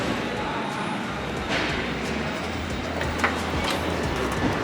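Busy interior of an Austrian train station in Bad Ischl, with a steady wash of crowd murmur, footsteps and rolling noise, occasional sharper clatters standing out against a constant low rumble.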